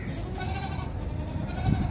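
Goats bleating at a goat farm, a continuous close, fairly loud animal cry filling the moment with no talk.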